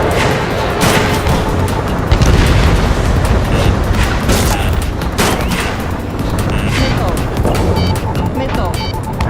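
Missile strikes and explosions in the Ace Combat 7 jet combat game, a loud, continuous barrage of booms and blasts mixed with gunfire, with radio voices talking over the action.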